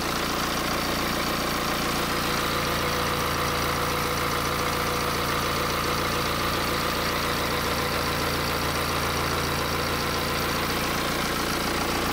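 A diesel car engine idles steadily after its DPF and EGR have been cleaned, giving a continuous, even mechanical hum close by with no voices over it.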